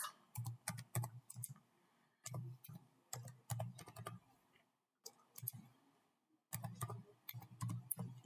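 Rapid clicking keystrokes on a computer keyboard during a LinkedIn search, coming in bursts separated by brief pauses, close and fairly quiet with no voices.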